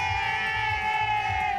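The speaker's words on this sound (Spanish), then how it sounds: "Con una ovación, venga." Crowd at the San Fermín festival in Pamplona roaring and cheering in a steady, dense wash of many voices, with a sustained whistle-like tone running over it and no pauses through the moment.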